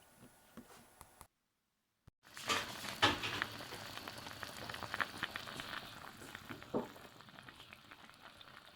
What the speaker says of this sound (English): let it simmer and cook for a good while over the